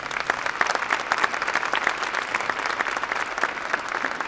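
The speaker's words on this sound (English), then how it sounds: "Let's give them another round of applause." An audience at a junior high jazz group performance claps steadily and warmly, with dense, continuous applause filling the room at an even level throughout.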